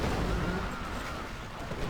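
Short, muffled booming rumble of a city's bombardment attack in the strategy game Civilization V, a low, dull blast that fades out within about two seconds.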